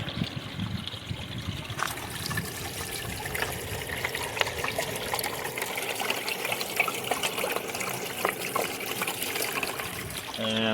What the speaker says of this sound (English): I'm gonna crank the water down just a tiny bit more.